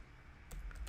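A brief burst of computer keyboard typing, a few quick close keystrokes clicking in succession over a quiet background.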